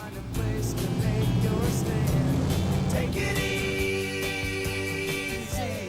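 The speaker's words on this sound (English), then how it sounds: "This is about just soaking up the sound, that engine note." A pickup truck cruising gently gives a low, rumbling engine note that stays steady and close before easing slightly in the final seconds, with no talk over it.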